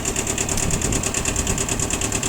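A Kubota B6000 Japanese four-wheel-drive mini tractor with a rotary tiller runs steadily nearby, a fast, even mechanical chatter with a rhythmic pulsing over a dense engine drone.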